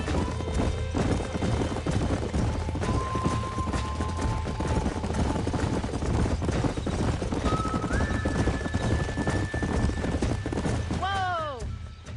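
Horse hooves clip-clop at a steady trot in Red Dead Redemption, close and continuous, with a horse whinnying near the end and other game sounds underneath.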